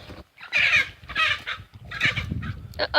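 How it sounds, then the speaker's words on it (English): Chickens fighting on a homestead squawk and cackle in loud, agitated bursts, close by, with brief pauses between outbursts. "Chickens are fighting."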